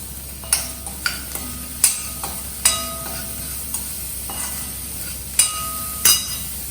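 Ingredients for a bread-slice lasagna being stirred together in a bowl, with a series of sharp spoon clinks and taps at irregular intervals over steady low kitchen background noise.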